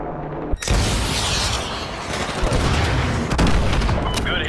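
A sudden heavy blast opens a sustained, roaring barrage of missile-strike explosions in Call of Duty Modern Warfare 2, loud and dense with rumbling booms and crackling debris throughout.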